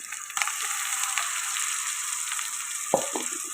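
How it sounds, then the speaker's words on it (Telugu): Tomato paste frying in a pan for a fish curry, a steady close hiss and crackle of sizzling oil with a couple of soft clicks from stirring, no talk. "ఇది కూడా పచ్చివాసన పోయేదాకా ఫ్రై చేసుకున్నాం"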